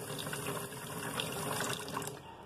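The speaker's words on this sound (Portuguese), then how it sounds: "Colocando água aqui da torneira." Tap water running from a faucet into a bowl: a steady, soft, continuous splashing hiss with no breaks, fairly faint throughout.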